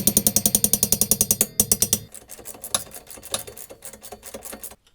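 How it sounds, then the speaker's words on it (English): Ratchet wrench loosening the 17mm lower shock bolt on an NC Miata, a fast even run of loud clicking ratchet strokes for two seconds, then quieter scattered mechanical ticks and rattles, close up without talk. "Next, I'm going to remove the 17mm bolt from the bottom of the shock."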